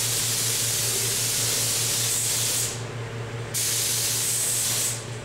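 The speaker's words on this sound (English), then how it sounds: "rotate that nozzle for the last coat, and this wing will be all finished." A spray gun applies the final coat of paint to an aircraft wing, a loud steady hiss running in two long bursts with a brief drop in between and no talking.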